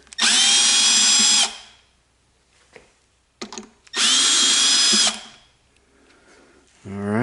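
A power drill driving out screws from the motor cap of a Rainbow D4 vacuum, two loud sustained whirring bursts separated by quieter handling clicks, with a third spin-up starting at the end.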